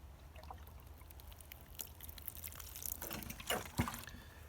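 Water poured over freshly sown winter seed pots before they go under a greenhouse: a soft, uneven trickle and splash that grows a little louder toward the end, fairly faint and with no other sound.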